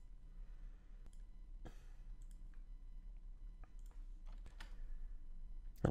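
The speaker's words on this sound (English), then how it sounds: "I'm using my keyboard shortcuts to select." Computer keyboard keys clicked in short bursts while entering shortcuts to select cells in Google Sheets, quiet scattered taps and clicks over a low steady hum.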